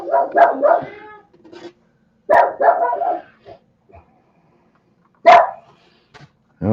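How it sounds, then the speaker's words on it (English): A dog barks in several loud, close bursts separated by pauses, with a few softer yips and whimpers in between. "Oh, shush your woofing, dog."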